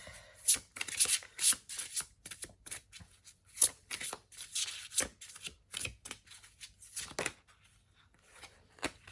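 Tarot cards are shuffled close up in quick riffling bursts and flutters with short pauses between them, fairly quiet, with no talking.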